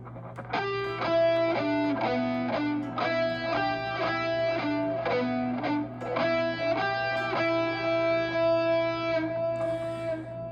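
A crunchy, distorted electric guitar riff repeats in short rhythmic bursts and sustained notes, played up close over a constant low amplifier hum.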